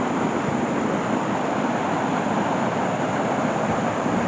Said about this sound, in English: Hear the sound of water, a cool breeze in the shade.